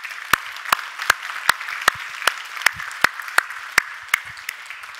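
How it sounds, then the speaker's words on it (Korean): A church congregation claps in unison, sharp synchronized claps landing roughly every third of a second in a steady beat, fairly close and clear over a quiet hall. "그분께 한번 배우겠다는 결심과 감사의 박수를 한번 드리겠습니다"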